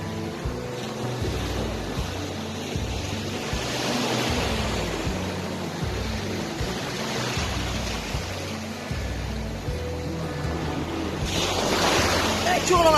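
Sea waves washing onto the beach at Knokke, a steady, loud roar of surf with wind buffeting the microphone, swelling louder near the end.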